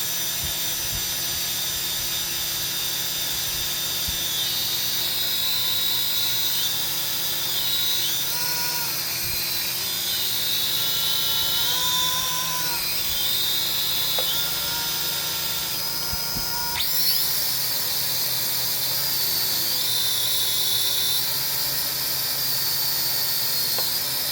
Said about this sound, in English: So this is just using supercapacitors and battery in parallel to power a drone.